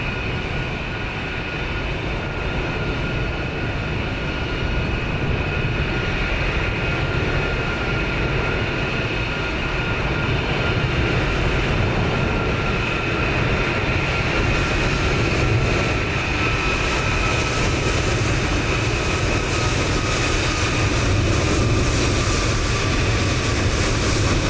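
A Ryanair airliner arrives at Edinburgh in Microsoft Flight Simulator 2020, a loud, steady broadband jet roar with a faint whining tone held throughout, no talking.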